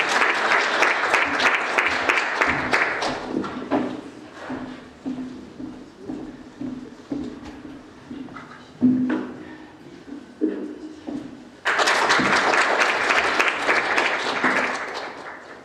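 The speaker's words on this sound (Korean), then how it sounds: "박수로 환영해 주십시오." A lecture audience gives a former ambassador welcoming applause, loud and dense at first, thinning to scattered claps with talk over it, then swelling again into full clapping.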